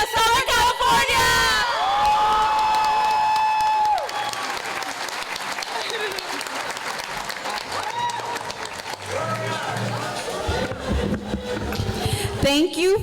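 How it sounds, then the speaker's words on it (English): A large crowd at a high school college signing day for the class of 2023 applauds and cheers for the seniors, with loud sustained clapping, whoops and shouts. Music plays and voices carry over the noise. "Thank you for cheering on our seniors."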